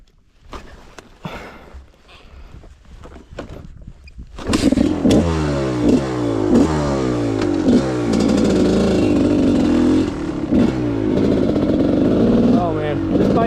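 A Gas Gas 300 dirt bike engine coughs and catches after a few attempts, then settles into loud, close, uneven revving with repeated throttle blips.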